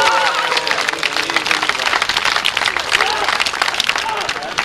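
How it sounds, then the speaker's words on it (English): A street-performance crowd in Edinburgh claps and cheers for a performer, a dense, loud burst of applause with scattered shouts that holds steady for a few seconds, close and lively. "How about a big cheer"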